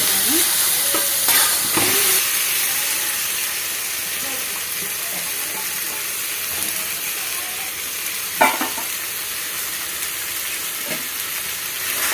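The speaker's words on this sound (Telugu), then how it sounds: "చికెన్ వేసి దీన్ని ఇలా కలుపుకొని మగ్గనివ్వాలి." Chicken pieces frying in turmeric and oil in a pan, with a continuous loud sizzle and intermittent clanks and scrapes of stirring near the mic, no talking.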